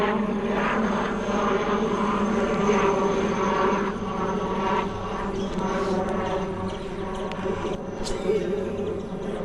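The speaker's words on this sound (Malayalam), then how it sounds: "ഹെലികോപ്റ്റർ" A helicopter flies overhead near water during a fishing outing, its engine and rotor drone loud and steady throughout, with faint voices beneath.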